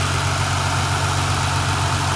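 A 2016–2017 Nissan GT-R Premium's 3.8-liter twin-turbo V6 idles steadily, a close, constant low rumble with a deep throb and even hum throughout, no voices.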